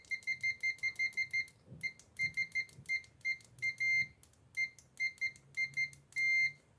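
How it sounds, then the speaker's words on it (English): A ZOYI ZT-980L multimeter's continuity buzzer sounds rapid electronic beeps in quick repeated bursts, high-pitched chirping on and off steadily with short gaps between clusters. "Select the buzzer."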